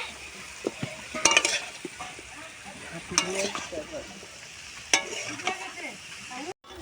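Water lily stems and shrimp with turmeric stirred in a pan, a low sizzle broken by several distinct scraping and clinking strokes of a spatula, with a brief silent gap near the end.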